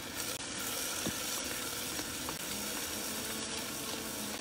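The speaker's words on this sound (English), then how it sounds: "So we're gonna saute that up for just a minute." Chicken sautéing in a pan gives a steady, moderate sizzle throughout, with a few light stirring clicks and no voices.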